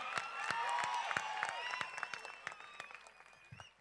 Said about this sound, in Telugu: హృదయపూర్వకంగా గట్టిగా చప్పట్లతో రెండు చేయిలు ఉన్నోళ్ళు రెండు చేతులతో గట్టి కొట్టాలి